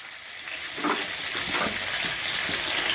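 Cumin and curry leaves sizzle in a small amount of hot oil, making a steady, close crackling hiss with faint stirring scrapes running through it.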